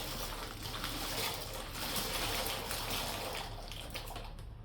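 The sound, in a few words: pasta added slowly into simmering water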